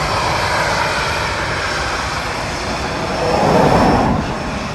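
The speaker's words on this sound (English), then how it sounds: "As Aer Lingus comes in, our BA just coming below 200 feet." British Airways ATR 72-600 turboprop landing at Dublin Airport, a steady broadband engine roar that swells briefly louder near the end as it passes close.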